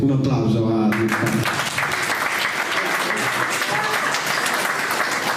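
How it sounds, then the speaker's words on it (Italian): Sustained applause from an audience at a poetry and song evening in Villa Gardenia, honouring the poet Luca; dense, steady clapping fills the whole stretch after a brief opening moment of voice. "Un applauso a Luca."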